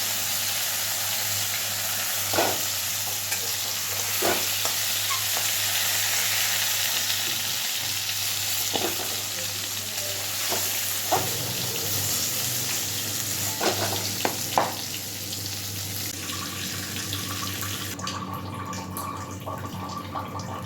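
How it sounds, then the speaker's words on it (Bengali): Potato and pointed gourd sizzle and fry in oil in a wok, a steady close crackle with occasional stirring knocks and scrapes, no talk over it. "আলু পটলটা আমি হালকাভাবে ভেজে নিয়েছি, এবার উঠিয়ে নিচ্ছি।"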